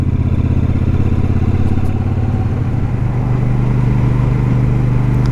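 A Royal Enfield Super Meteor 650 motorcycle cruises in fourth gear through a roundabout, its engine a steady, loud, close drone with constant rumble throughout, with no talking.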